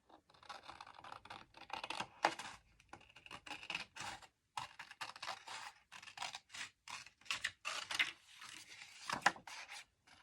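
Scissors snip and rustle through paper while vintage photos are trimmed for a handmade photo album, a quick irregular run of close, dry cutting and scraping sounds separated by short pauses.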